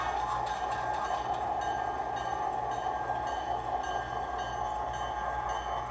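Model CN low-horsepower locomotive fitted with a Proto Sounds Canada sound pack, giving a steady, droning diesel rumble with a constant hum and faint clicking, fairly loud and continuous without any voices.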